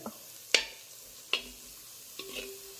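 Tomatoes cooking down in a pot for tomato rice, with three distinct stirring scrapes spaced about a second apart over a quiet, faint sizzle.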